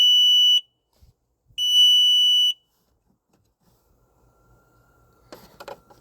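The Connext touchscreen on a 2023 Yamaha WaveRunner personal watercraft gives two loud, electronic alarm beeps, each lasting about a second. Near silence follows, then some faint handling noise.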